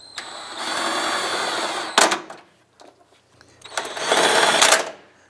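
A power driver runs in two steady bursts while snugging down headlight mounting screws on a 2004-2012 Chevrolet Colorado, a buzzing whir with a brief clatter and pause in between, close and fairly loud.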